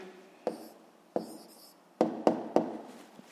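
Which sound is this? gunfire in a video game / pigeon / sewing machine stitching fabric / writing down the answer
writing down the answer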